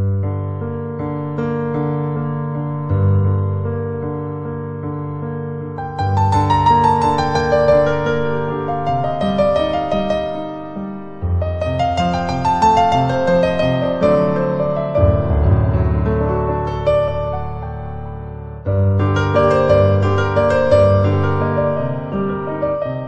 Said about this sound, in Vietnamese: Tiếng số 2 thì mang tính chất ấm hơn để thích hợp mình đàn những cái bài mà âm hưởng nó du dương,